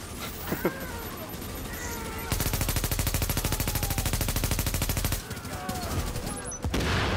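Rapid automatic turret fire in The Division, a steady rattling stream of shots lasting a few seconds amid other game noise, with brief bursts before and after.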